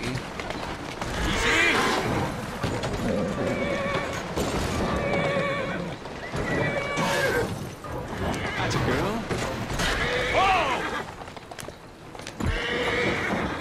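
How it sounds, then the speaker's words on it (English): Horses whinny repeatedly amid galloping hoofbeats in the video game Assassin's Creed Syndicate, loud and busy, with someone speaking briefly over the commotion. "It's freaking horses, man."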